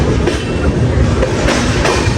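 A passenger train runs toward Haridwar, heard from inside the coach as a loud continuous rumble with rhythmic clickety-clack of wheels over rail joints.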